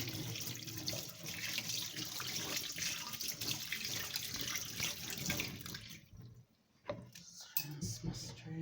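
Water runs from a kitchen tap to rinse a juice strainer, a steady faint splashing stream that cuts off near the end, followed by a few clicks and handling noises.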